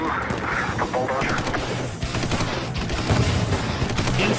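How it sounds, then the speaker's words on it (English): Automatic weapon fire from an armored bulldozer, rapid bursts of shots crackling through a dense, loud din with a voice talking underneath. "we've had automatic weapon fire come from the bulldozer"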